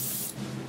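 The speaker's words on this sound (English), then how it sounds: "If it jams up, just spray it like out of the range of the model." An aerosol spray paint can blasts a short, loud hiss aimed off to the side of a Panther Panzer scale model, cutting off after about a third of a second with fainter spray noise lingering.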